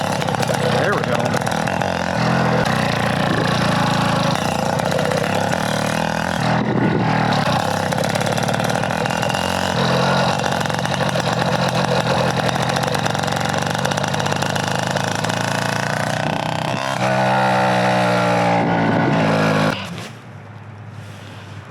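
A 2-stroke Minarelli 70/81cc engine on a motor-bicycle runs lean and starved for fuel, a close raspy buzzing idle that wavers in pitch, with a voice talking over it before the engine cuts out at the end.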